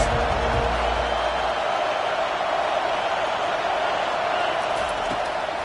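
Stadium crowd in NCAA Football 25 roars as a steady, dense wash of noise filling the whole stretch, loud and unbroken, with no clear individual cheers standing out.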